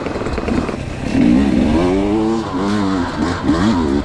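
An off-road trail motorcycle engine revs up and down in repeated rising and falling bursts, close and fairly loud, with a slight mechanical clatter.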